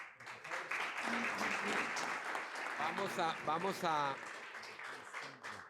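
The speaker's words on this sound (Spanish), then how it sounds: "por favor, un aplauso para los dos" An audience at a medical lecture on celiac disease applauds two professors, steady clapping that runs throughout while a speaker's voice talks over it in the middle.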